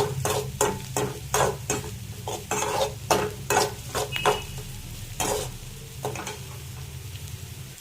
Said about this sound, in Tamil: சிம்மில் வச்சே நல்லா வதக்குங்க.